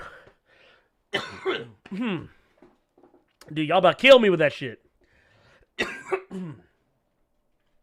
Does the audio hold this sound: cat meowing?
no